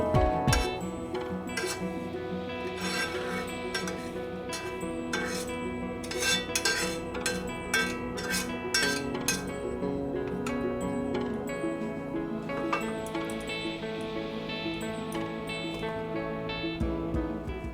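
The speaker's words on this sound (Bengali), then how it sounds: "এবার সুজিটা একটা পাত্রে ঢেলে নেব।" Semolina is poured from a pan into a bowl with repeated metallic clinks and scrapes of a spoon against cookware, sounding close and irregular throughout.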